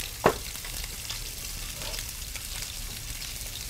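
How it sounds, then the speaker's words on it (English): Steady, close sizzling of hake fillet pan-roasting, seasoned with salt and pepper, a continuous crackling hiss with one sharper pop near the start. "Let that sizzle away a little bit."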